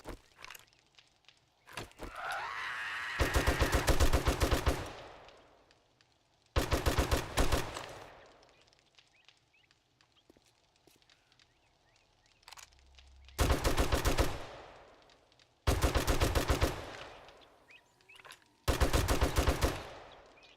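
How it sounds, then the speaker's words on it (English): Sniper gunfire in 7 Days to Die comes in repeated loud bursts of rapid shots, separated by quieter gaps with faint ambient noise. "Way up here and just snipe them."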